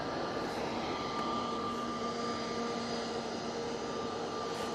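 A Boeing 787 Dreamliner jet passing overhead near an airport, a steady broadband engine roar with faint tonal whine, sustained and fairly distant throughout, no voices.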